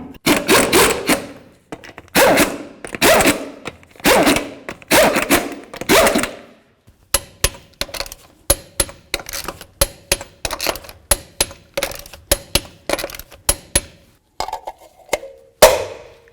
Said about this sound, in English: Start all of your lug nuts, snug them up, and torque them to 150 foot-pounds.